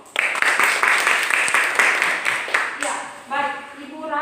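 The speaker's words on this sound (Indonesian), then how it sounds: "Tepuk tangan untuk kelompok Ruth." Students in a classroom clap for a group during a lesson, a short burst of fairly close applause lasting under three seconds before a voice begins speaking.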